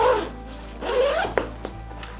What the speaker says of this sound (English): I can still zip this thing up